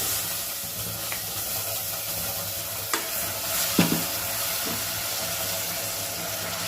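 Tomato rice masala paste fries in a pan with a steady close sizzle, while a spoon stirs and scrapes against the metal in a few distinct knocks.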